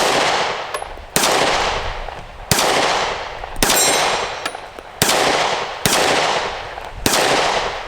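Taurus GX4 pistol firing hollow points and ball ammo outdoors: seven loud, sharp single shots spaced about a second apart, each with a ringing echo tail, no talking.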